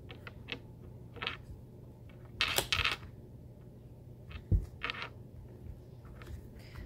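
Tarot cards are shuffled and handled in a quiet room, giving a few soft, brief riffling and tapping bursts separated by pauses.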